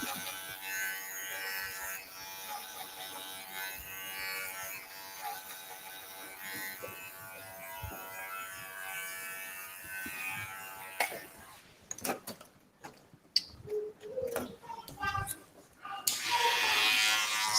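Electric hair clippers buzz through a clipper-over-comb cut in a salon, a steady motor drone followed by choppy bursts of cutting and handling noise.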